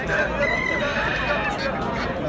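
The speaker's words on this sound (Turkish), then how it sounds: "Burada yumurta tavukları var" Egg-laying hens at a busy open-air poultry market in Kırıkkale cluck and call amid a dense crowd murmur, with people talking nearby throughout.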